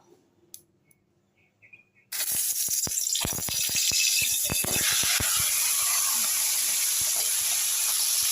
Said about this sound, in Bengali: এখন একটু গ্যাসটা ছোট করে আমি আর মাছের মাথাটা ভেজে নেব